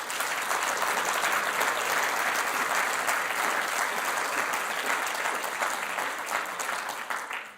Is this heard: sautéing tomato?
no